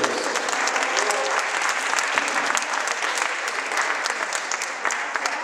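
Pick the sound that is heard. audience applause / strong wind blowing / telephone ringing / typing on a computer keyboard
audience applause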